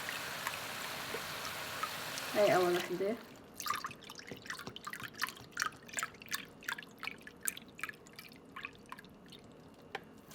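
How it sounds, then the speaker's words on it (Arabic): Vegetable broth pours and splashes into a pot of pumpkin soup in a run of wet, dripping splashes after a short burst of speech at the start. "هلا صار وقت حط 3 كبايات من مرقه الخضره، مية الخضره"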